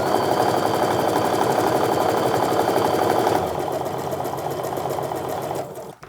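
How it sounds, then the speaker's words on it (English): A sewing machine stitching quilt fabric for a ribbon candy quilt, a loud steady mechanical whir that runs close and continuous, drops slightly in pitch partway through, then winds down and stops at the end. "I can eyeball it and just sew it through, which is what I'm going to do next."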